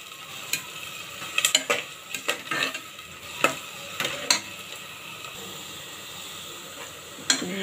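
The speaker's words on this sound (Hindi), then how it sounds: "इसे अच्छे से फ्राई होने देंगे।" Onions and green chilies frying in a pan, a soft continuous sizzle broken by intermittent scraping and clinking of a spoon against the metal, near and moderately loud.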